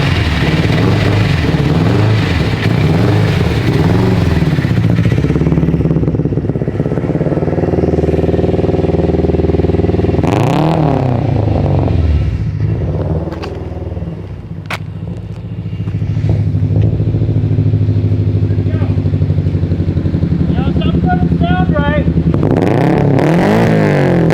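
An 800-horsepower turbocharged Subaru engine on a stock motor rumbles and revs loudly, rising and falling in pitch with clattery bursts, while people talk over it.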